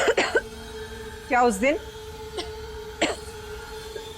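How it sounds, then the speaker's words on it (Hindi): A woman in a Hindi TV drama coughs in short, harsh bursts scattered between spoken lines, close and moderately loud. "हालत देखो अपनी, कितनी खांसी हो रही है तुम्हें।"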